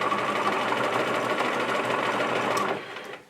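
A sewing machine runs a seam on a small McCall's wallet/wristlet, a steady close whirring hum that keeps going for about three seconds before winding down and stopping.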